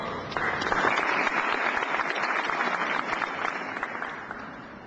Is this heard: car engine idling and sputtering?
no